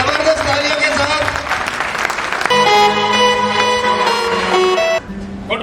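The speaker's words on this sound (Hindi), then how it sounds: "पहले जबरदस्त म्यूजिक, जबरदस्त तालियों के साथ।" Audience clapping swells for a few seconds, then gives way to loud music, with a voice speaking over it.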